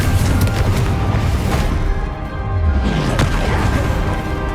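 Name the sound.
Confringo spell blast exploding in Hogwarts Legacy video game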